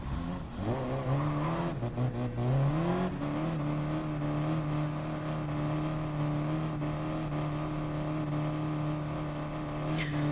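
Race cars accelerating at a rolling start in GT Sport, near Dodge Vipers, with engines rising in pitch through several gear changes then settling into a steady, loud drone that holds for the rest of the stretch.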